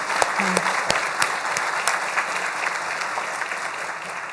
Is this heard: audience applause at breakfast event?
yes